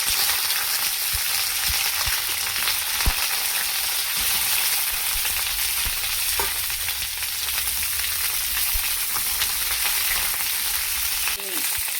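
Thick-cut cauliflower pieces frying in hot oil give a loud, continuous hiss and crackle, with scattered pops and a few faint clinks, close up and with no voices.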